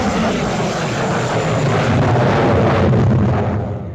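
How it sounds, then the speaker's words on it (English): A Panavia Tornado twin-jet swing-wing fighter roars loudly and steadily overhead at the Farnborough air show, a dense, continuous jet rumble that swells slightly before fading at the end. "The Anglo-German-Italian twin-jet Tornado."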